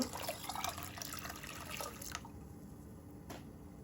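Hot water pours into a sour chalta and radish dish, a soft close splashing and trickling that stops about halfway, leaving a quiet room with one faint drip afterward.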